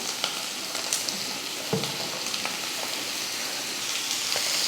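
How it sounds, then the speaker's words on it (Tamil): Chopped chow chow vegetable hits hot oil in a frying pan for a Tamil poriyal, giving a steady close sizzle and frying crackle with light stirring scrapes throughout and no talk. "இப்போ இதில் நம்ம கட் பண்ணி வச்ச காயை சேர்த்துடலாம்."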